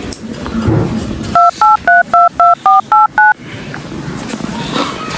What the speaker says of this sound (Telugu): ఫోన్ చేద్దాం